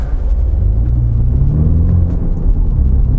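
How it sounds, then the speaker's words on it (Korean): A MINI John Cooper Works Countryman with a 306-horsepower engine accelerating from a stop, its low growl rising steadily and droning loud and close throughout, with no talking. "조금만 엑셀 밟더라도 으르릉 거리면서 이 엔진의 존재감을 한껏 과시를 하려고 합니다."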